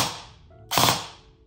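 An ICS MK18 Daniel Defense airsoft rifle fires a quick burst at close range. One sharp loud report with rapid crackle decays into a ringing tail after a quieter lead-in.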